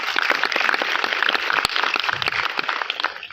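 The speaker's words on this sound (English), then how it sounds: "So please appreciate them with the round of applause." An audience at a 2023 Teachers' Day celebration at IIITDM Jabalpur bursts into sustained applause, with many distinct, crisp hand claps rattling unevenly throughout and one sharp, prominent clap standing out midway.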